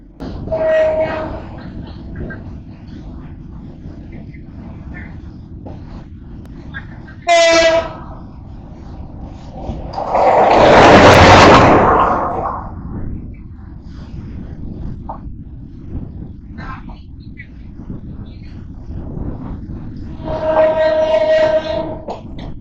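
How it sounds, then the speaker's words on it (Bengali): The Chittagong University shuttle train rumbles steadily along the rails throughout, heard from aboard, with a brief horn blast partway and a louder surge of rushing noise in the middle. "আমরা চলেছি শাটল ট্রেনে"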